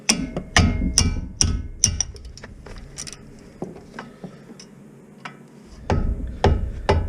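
A hammer taps a car's brake caliper with a series of sharp, fairly light metallic knocks in uneven bursts, with a short quiet gap midway.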